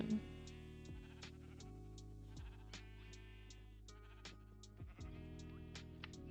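Sheep bleating inside a Minecraft farm pen, several repeated game bleats recurring over a steady backdrop of looping game music, fairly close and clear with no talk.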